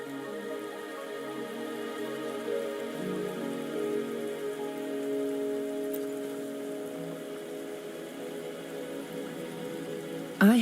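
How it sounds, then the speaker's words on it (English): Steady rain pattering on surfaces in the video game Wuthering Waves, a soft continuous hiss of drops layered over a sustained tonal music bed, with a brief sharper sound at the very end. "Are you trapped here by the rain?"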